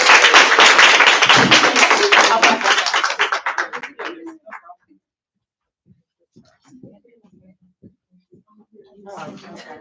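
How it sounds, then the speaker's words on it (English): Applause from an audience for a speaker at a live talk, loud dense clapping for about four seconds that then thins into a few scattered claps and faint rustling, with a brief swell of noise near the end. "give another round of applause for our speaker"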